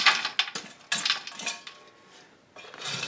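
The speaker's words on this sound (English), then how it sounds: "we're just going to clean out the wood stove of hot coals" A metal tool scrapes and clanks against the iron of a wood stove while hot coals are shoveled out, in several sharp close metallic scrapes and knocks separated by brief pauses.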